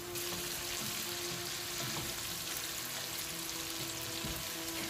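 Dried hilsa fish (shutki) cooks in a pan with salt and green chillies, giving a steady, dense sizzle and bubbling that runs unbroken and fairly close throughout, with no voices.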